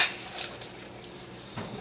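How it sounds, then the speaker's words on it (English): A utensil stirs popcorn in a pot on the stovetop, giving soft scraping and light clattering against the pot, close and fairly quiet, with no talk. "now we gotta stir it up to coat all that popcorn"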